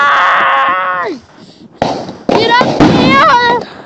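A neighbour's powerful New Year firecrackers crack several times in quick succession, loud and near, while excited voices shout over and between the blasts.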